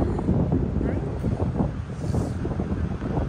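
Strong cold wind gusting across an open park in Sarnia, a steady loud rumbling roar buffeting the microphone throughout, with faint voices underneath.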